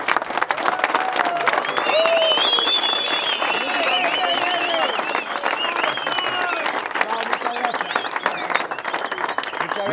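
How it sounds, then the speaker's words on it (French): Prison inmates applaud a visitor, with dense, sustained clapping from many hands mixed with whistles and cheers, and voices calling out over it. "Je ne sais pas pourquoi ils m'ont applaudi"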